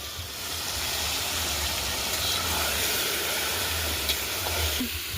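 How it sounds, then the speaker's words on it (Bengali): Marinated meat sizzles loudly in hot oil at an outdoor picnic cookout, a steady broad hiss that holds throughout, with a low hum beneath and a faint clink near the end. "ম্যারিনেট করা মাংসটা তেলের ভিতরে দিয়ে দেওয়া হয়েছে।"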